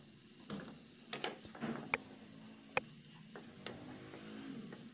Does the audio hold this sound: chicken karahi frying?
yes